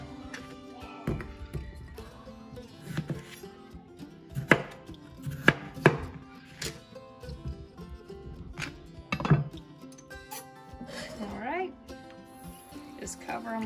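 A knife chops potatoes on a cutting board in a home kitchen, with irregular sharp thunks spaced across the stretch and a person talking between the cuts.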